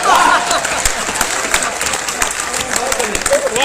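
Comedy poetry gathering audience clapping in a dense, steady burst throughout, mixed with crowd murmur and a voice speaking over it.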